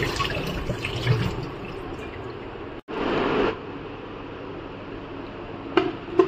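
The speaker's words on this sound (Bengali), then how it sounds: "মুসুরির ডালটাকে ভালো করে ধুয়ে নিচ্ছি।" Masoor dal, red lentils, being rinsed in water in a home kitchen, with steady running and sloshing water throughout, a brief gap, then a louder burst of splashing and a few small clinks near the end.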